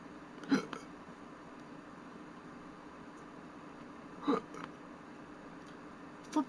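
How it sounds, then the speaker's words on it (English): Three sudden hiccups, one near the start and two later, each short, sharp and close against a quiet room. "I had 2 hiccups out of nowhere."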